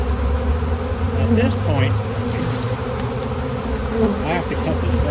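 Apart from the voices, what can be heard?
swarm of bees buzzing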